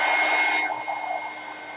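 A craft heat tool blows on corrugated cardstock, a steady close fan-like whoosh with a thin whine that cuts out abruptly after about half a second, leaving a faint hum.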